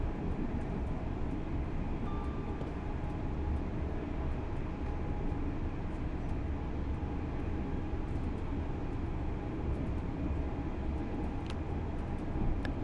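LNER Azuma Class 801 train running in Train Sim World 4, a steady, unbroken rumble and hum of the moving train that stays even and loud throughout, with no voices.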